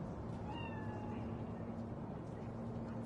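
A cat meows faintly in Cyberpunk 2077, giving a couple of short, thin meows early on over a steady low in-game ambient hum.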